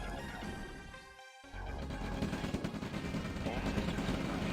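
Rifle gunfire in a real-time strategy battle set in Ukraine, with rapid crackling shots and bursts layered over a dense combat din, plus a voice talking over it.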